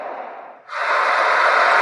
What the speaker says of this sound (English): Sound of the desert